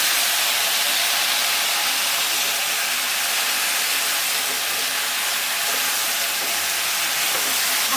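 Pieces of bottle gourd dropped into hot oil after the spice tempering, a loud, broad hissing sizzle held steady and close throughout, with no talking.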